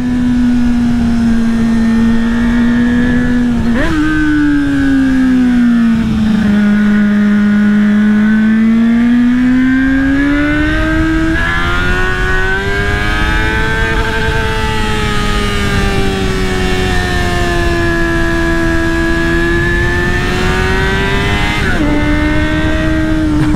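A four-cylinder Honda Hornet motorcycle engine on the road, droning steadily and close with smooth, wavering pitch as the rider rolls the throttle on and off, with brief shifts at a few points and no talk.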